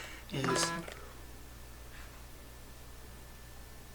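A mobile phone gives a short electronic chirp of stacked tones early on, over soft speech and a low steady hum, followed by a faint second blip and quiet background hiss.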